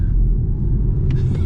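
Volvo C40 Ultimate electric car accelerating on a final pedal press, a steady low road and motor rumble heard from inside the cabin, continuous and fairly loud with no talk.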